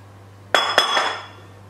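Egg whites are mixed in a bowl, with two sharp clinks of a utensil against the bowl followed by a brief scraping rattle that fades out quickly.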